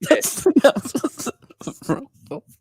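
A person coughs a few times amid bursts of talk and a laugh, close and fairly loud.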